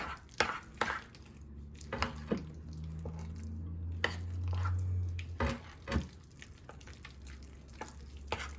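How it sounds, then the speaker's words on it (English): Cooked penne mixed in a bowl with grated sharp provolone, giving soft, wet stirring and scraping with a few dull knocks of the utensil against the bowl, close and fairly quiet. "Mix all this up really good."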